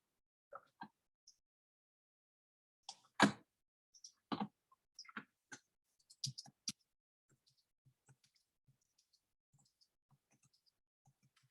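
Computer keyboard typing during a math lesson, heard as scattered, quiet clicks and short bursts of keystrokes with long pauses between them, no voice over them.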